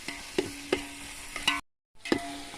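Chicken curry with tomato being stirred in a pan, a handful of sharp spoon scrapes and clacks against the metal over a faint simmer, with a brief total dropout before one last scrape.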